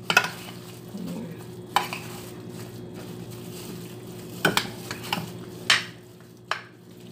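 Béchamel sauce is stirred in a pan over a low, steady hum, with occasional sharp taps and scrapes of the utensil against the pan at uneven intervals.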